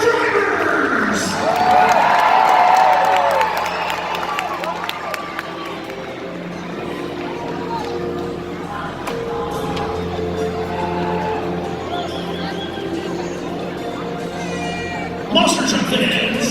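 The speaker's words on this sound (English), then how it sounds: "give a big round of applause to the stars of the show, your Monster Truck Drivers!" A big arena crowd at a Utah monster truck show cheers and claps steadily for the drivers, a dense roar of voices with high shouts, while a public address voice carries over it and a louder swell comes near the end.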